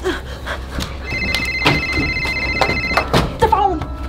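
A telephone rings in the horror game Ophelia and the Doll Maker, a bright repeating bell tone lasting a couple of seconds, heard among thumps and soft voices.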